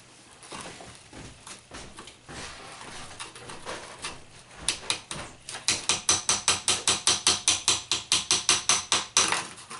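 A metal chisel tapping on the rock of a diamond dig kit, soft irregular taps at first, then a fast, even run of sharp, loud clicks that grows stronger toward the end.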